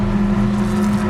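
Toyota MR2 race cars in a Millers Oils championship race at Castle Combe circuit, a steady loud engine drone with a strong low hum holding throughout, no clear pass-by peaks, no talk.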